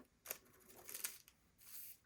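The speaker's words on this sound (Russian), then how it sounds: "Края бантика подрезаем по чуть-чуть." Scissors snip in a few short, quiet cuts while trimming the ribbon edges of a bow on a brooch, three separate crisp bursts spaced over about two seconds in an otherwise hushed room.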